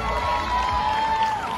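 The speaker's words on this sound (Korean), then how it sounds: "박수, 박수." Students at a high school festival award ceremony in Daegu applaud and cheer as a presenter is welcomed on stage, a steady crowd roar with a faint sustained tone running through it.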